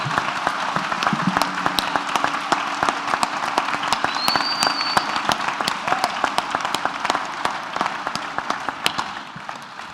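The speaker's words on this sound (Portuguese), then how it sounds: "Quantos podem aplaudir o Senhor?" A church congregation at a conference applauds: dense, lively clapping from many people, continuous and fairly near, thinning slightly toward the end, with a faint whistle-like tone partway through.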